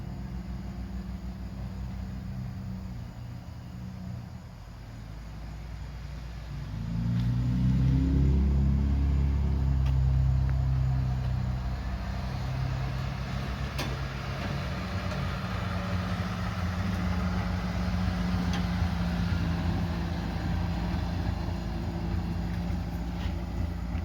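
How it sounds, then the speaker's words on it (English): An old parts truck engine idles with a steady low rumble, then rises louder as it shifts and backs up in reverse before settling to a running idle. "So there goes a parts truck"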